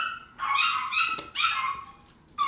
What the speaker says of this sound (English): Maybe that's why they're barking